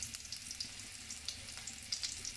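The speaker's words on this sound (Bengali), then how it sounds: "রসুনটা দিছি আসলে তেলটা আসলে গরম হয়েছে কিনা আমি চেক করার জন্য।" Garlic sizzles in about three tablespoons of hot soybean oil in a kadai, giving faint, steady frying crackles with scattered small pops.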